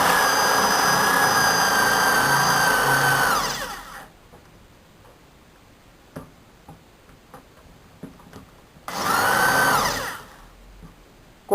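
A power drill bores a hole through a wooden double-door cabinet door to fit a lock. It whines loudly and steadily for about four seconds, goes quiet, then runs again in a shorter burst.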